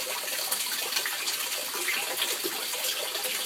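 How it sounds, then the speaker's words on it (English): Water gushes steadily into a big aquaponics tank, a continuous close splashing rush with no letup. "Fills up the big tank."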